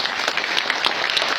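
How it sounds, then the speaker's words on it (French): An audience applauds an author at a cultural centre event: a brief, dense burst of steady clapping from a crowd, moderately close, without speech. "Applaudissez-la tous."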